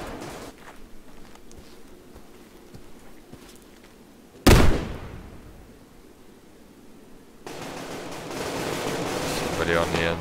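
Gunfire from the online shooter game Survarium: a single loud, sharp shot cracks out midway and decays with a long tail, framed by quieter game ambience and a rising burst of noisy action near the end.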